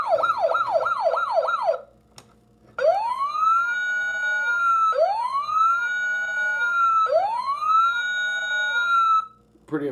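An old toy ambulance, circuit bent, blares electronic sirens up close: a rapid warbling wail first, then three slow rising-and-falling whoops separated by short gaps, with no speech over it.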